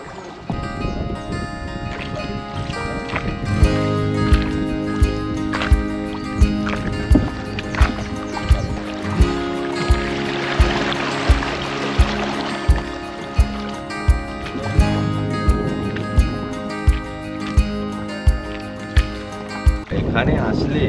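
Morning boat ride on the Kangsabati river: the low drone of a boat motor runs steadily, with regular knocking and splashing and light wind noise, while music plays over it.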